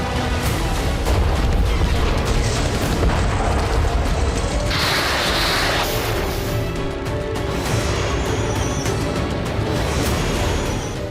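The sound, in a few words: explosion and boom of bombing on Odessa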